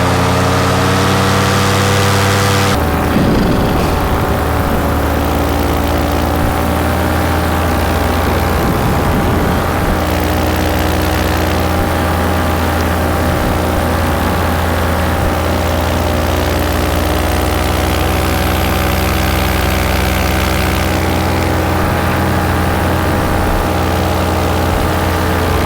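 A small propeller aircraft engine drones loud and steady from inside the cabin as it climbs, its low hum constant throughout with a slight shift in pitch early on.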